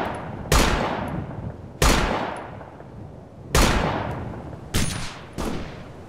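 Five sharp gunshot bursts from the military shooter Operation Flashpoint: Dragon Rising, each a loud crack that rings out and decays, spaced irregularly over the span with no talking.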